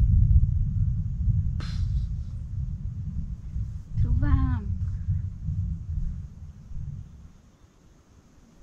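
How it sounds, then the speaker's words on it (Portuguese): Thunder rumbling during heavy rain at a riverside camp, a deep, continuous low roar that swells and fades over several seconds, with a brief voice in the middle. "medo esse trovão"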